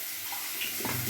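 A little water poured into a mixer bowl holding poppy-seed paste for rui posto in a home kitchen, a short soft splash and trickle rising near the end over a steady hiss of background noise.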